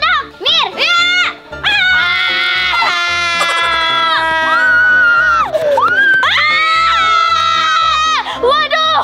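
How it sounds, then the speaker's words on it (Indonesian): Several women scream loudly in long, overlapping, high-pitched wails during a chaotic scene of pregnant women being examined by a doctor, with brief breaks between bursts. "Kenapa kalian teriak?"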